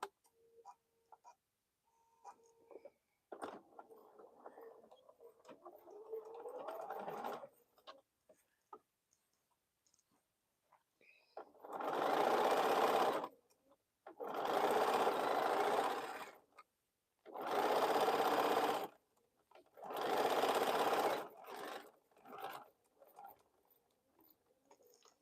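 A sewing machine stitches a quilt block in four loud, even bursts of a few seconds each, separated by short pauses, after a quieter stretch of light tapping and handling.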